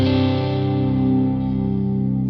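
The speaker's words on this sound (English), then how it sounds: "Oof, that default reverb." An electric guitar plays through the default setting of a Legends Verb reverb plugin. Sustained distorted chords ring out with a thick, echoing reverb tail, loud and alone.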